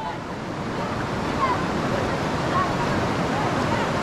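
Outdoor wind near a village creek blows as a steady, full rushing roar as rain begins to fall, with no clear break in the noise.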